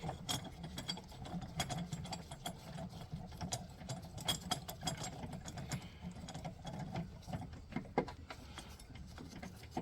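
A hand ratchet clicks in quick uneven runs as 10mm bolts are loosened during battery removal on a Toyota 4Runner, close and fairly quiet, with a faint engine-bay rumble underneath.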